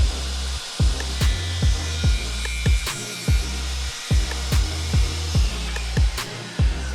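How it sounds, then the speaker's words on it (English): A hand saw cutting a timber floor joist being fitted into a steel beam, loud close rhythmic strokes, about a dozen even back-and-forth pushes with brief pauses between them, no talking. "Just going to do one more cut."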